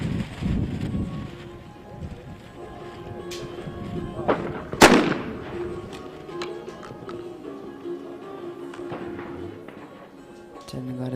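A single sharp shotgun report cracks at a trap shooting final, a clay target shot standing out loud amid outdoor wind and quieter background talk, followed by a fading echo.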